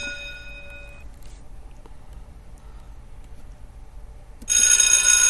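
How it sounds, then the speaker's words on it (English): A telephone bell rings at the start as a sound effect, a bright trill that stops after about a second, followed by quiet and then a sudden loud noisy burst near the end. "You have to get the bell for that."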